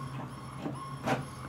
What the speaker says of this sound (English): My printer says it's printing.